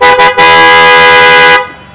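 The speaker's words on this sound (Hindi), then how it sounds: "अब यहाँ पर हमने हॉर्न भी लगाया है, उसका भी आपको साउंड सुना देता हूँ कैसा है।" Aftermarket horn fitted to a Royal Enfield Himalayan 450 motorcycle, sounding two short toots and then one long, loud, steady blast close by, with no talk over it.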